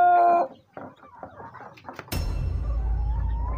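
Chickens on a small farm cluck and call, a rooster-like harmonic cry at the start followed by scattered clucks, then a steady broadband rumble of flock noise and handling sounds fills the rest.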